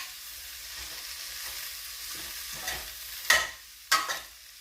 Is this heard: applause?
no